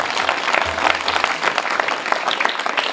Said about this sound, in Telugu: చప్పట్లు కొడుతూ గట్టిగా పిల్లలు.